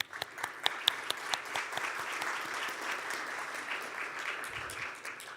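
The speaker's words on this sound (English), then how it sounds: "Let's give them a round of applause." An audience at an industry forum applauding its sponsors, a dense sustained wash of clapping from a crowd with a few sharper claps at the start, holding steady before tapering off.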